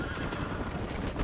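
Horses whinny and neigh in Red Dead Redemption, loud close cries layered over galloping hoofbeats and clattering movement.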